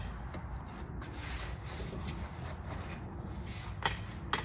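A brush scrubs dirt from a car engine bay in steady, rapid rubbing strokes, close and continuous, with a couple of sharper scrapes near the end.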